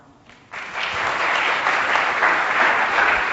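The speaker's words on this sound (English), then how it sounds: "round of applause." Audience at a talk on employee rewards breaks into applause, a sudden swell of close clapping that rises quickly and holds steady until the end.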